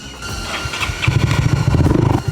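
A motorcycle engine cranks and catches, then settles into a close, loud, rhythmic idle with a fast, pulsing low throb.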